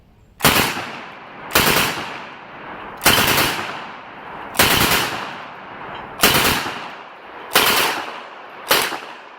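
An Uzi submachine gun fired outdoors on a range, seven sharp, loud single shots spaced roughly a second and a half apart, each ringing out with a short echoing tail.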